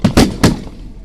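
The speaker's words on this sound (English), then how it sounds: "which is the sound of sniper fire or certainly gunfire coming in from Islamic State" Incoming gunfire in battle near Mosul, Iraq cracks in three sharp, loud reports in quick succession, then fades into a quiet outdoor background.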